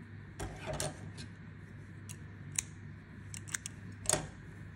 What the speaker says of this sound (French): Donc là je peux couper mon fil.